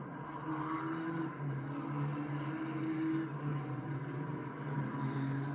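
Australian Formula 4 race cars lapping a circuit, a distant droning engine whine rising and falling in pitch as cars pass at a distance, steady and moderately loud with no talking.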